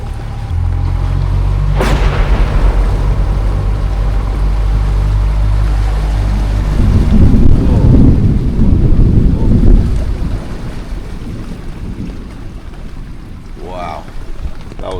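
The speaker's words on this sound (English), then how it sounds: "Biggest lightning strike in front of me then." A close lightning strike during a Kimberley storm cracks sharply, then heavy thunder rumbles low and loud for several seconds before fading into wind noise and a few faint sounds.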